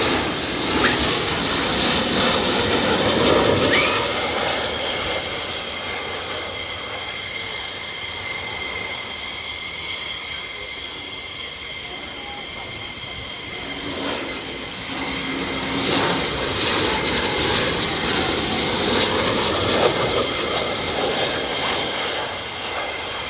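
Military fighter jets land at RAF Lakenheath in heavy crosswinds, a sustained loud roar with a high whine that eases slightly mid-way, then swells again as another jet comes in.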